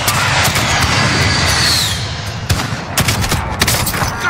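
Airstrike blasts in the Warzone battle royale shooter: a dense, continuous rumble of rapid explosions and gunfire fills the first half, then gives way to several sharp, separate bursts in the second half.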